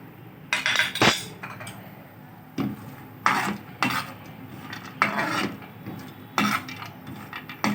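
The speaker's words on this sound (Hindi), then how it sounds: "इधर हम अपने ड्राई फ्रूट को थोड़ा सा रोस्ट करेंगे। सबसे पहले बादाम जाएंगे।" Almonds tossed in a pan while roasting dry fruits for shahi zarda, giving close, intermittent clinks and scraping rasps of nuts and spoon against metal, with quiet gaps between bursts and no talk.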